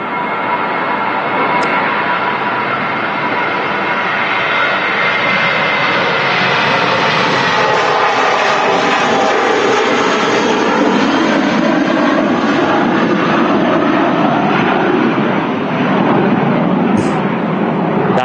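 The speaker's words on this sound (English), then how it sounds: "That's Tui SmartLinks Estonia A320 heading off to Dalaman in Turkey." A TUI Airbus A320 jet takes off from Manchester Airport bound for Dalaman, a loud sustained engine roar that holds steady and swells slightly throughout, heard from nearby.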